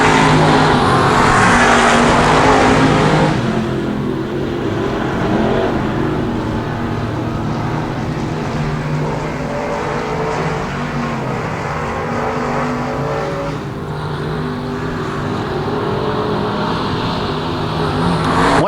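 Street stock cars racing on a dirt track, their engines roaring loudly at first, then settling into a steady rumbling drone of several cars running together, with revving swells and a dip near the end.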